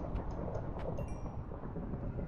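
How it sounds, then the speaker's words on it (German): A thunderstorm in the video game Minecraft, heard as a steady low rumble of thunder and rain-like noise throughout, with a few faint higher chimes on top and no talking. "Ein Gewitter."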